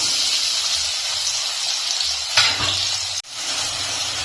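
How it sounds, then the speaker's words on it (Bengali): Chopped onion sizzles steadily in hot oil with whole cumin, cardamom, cloves and a piece of cinnamon, a close, continuous frying hiss with a brief stir and a clatter midway. "পেঁয়াজটাকে আমি লাল লাল করে ভেজে নেবো"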